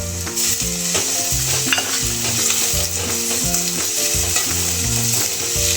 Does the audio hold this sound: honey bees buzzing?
no